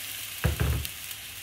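Hot water splashed into a hot pan for deglazing a Moroccan pork one-pot, giving two short bursts of loud sizzling and hissing close by, fading quickly to a faint simmer.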